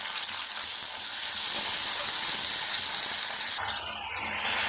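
Onion, tomato and curry leaves fry in hot oil with a loud, steady sizzle and hiss that stays close and continuous, easing slightly toward the end.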